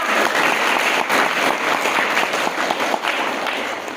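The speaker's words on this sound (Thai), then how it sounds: "ขอเสียงปรบมือต้อนรับผู้นำของปริษัททีเอค่ะ" Sustained, dense audience applause fills an event hall, welcoming the leader of company TA at a Bee Herb toothpaste product presentation; the clapping stays loud and close throughout before easing slightly at the end.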